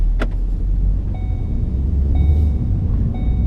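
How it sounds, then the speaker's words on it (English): A 2012-2018 Ford Focus with transmission problems being driven, heard from inside the cabin as a steady, loud low engine and road rumble with faint higher whines, and no talking. "let's take this for a drive and see if I fixed it"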